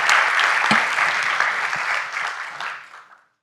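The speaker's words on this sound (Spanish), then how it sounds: "Fuerte aplauso para él." Loud applause from an audience at a business conference on Peruvian agroindustry fills the room, then thins and fades to silence after about three seconds.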